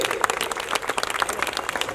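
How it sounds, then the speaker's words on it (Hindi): Audience applause at a seminar on railway job vacancies, a dense burst of steady clapping from many hands across the room, loud and continuous with no speech over it. "ताली होनी चाहिए अतिक सर के लिए"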